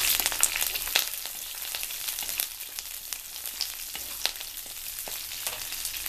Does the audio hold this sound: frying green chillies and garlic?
yes